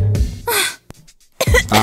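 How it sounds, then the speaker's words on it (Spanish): Harsh coughing fits, one rough burst at the start, another loud one mid-clip and a final cluster, with a short quiet gap between them; close and loud, with no talking. "¡Deja de toser! ¡Vas a contagiarnos a todos!"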